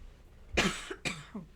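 A woman giving an astrology forecast coughs twice in close succession, two short sharp bursts from a tickle in the throat, close to the mic in an otherwise quiet room.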